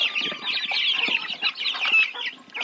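A flock of young chickens waiting to be let out and fed keeps up dense, high, rapid peeping and clucking, close and continuous with no voices.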